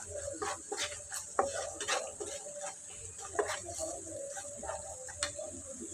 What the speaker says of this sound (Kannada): ಸಾಲ್ಟ್, ಗರಂ ಮಸಾಲೆ, ಧನಿಯಾ ಪೌಡರ್ ಎಲ್ಲ ಸೇರಿಸ್ಕೊಂಡು ಒಂದು ಸಲ ಚೆನ್ನಾಗಿ ಮಿಕ್ಸ್ ಮಾಡೋಣ